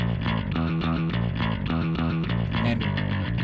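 Unprocessed low-end distorted guitar tracks chug in a steady, dense rhythmic riff, playing loud and continuous with no voices.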